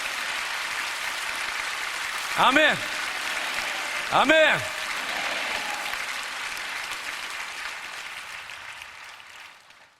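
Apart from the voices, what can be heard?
congregation applause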